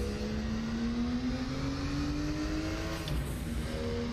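A Porsche 934 RSR Turbo with a 4-speed H-pattern gearbox at Spa in RaceRoom, its engine droning as it accelerates with a steadily climbing pitch, smooth and continuous, heard alone without talk.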